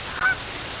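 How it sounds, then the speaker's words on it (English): Geese honk at an outdoor disc golf course during a championship round, a single brief, fairly distant honk rising over steady open-air ambience. "Watch out for those geese."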